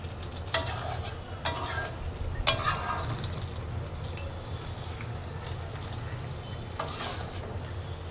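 Mutton sautéing in a pan while a utensil scrapes and stirs it in a few sharp strokes over a steady low sizzle, with no voices.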